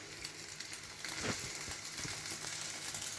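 Potato and egg frying in a pan while being stirred, a steady sizzle and crackle close by with faint scraping, no voices.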